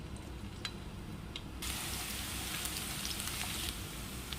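Garlic sautéing in oil in a pan, a steady broadband sizzle that swells louder partway through with a few brief crackles and pops, close and continuous with no talking.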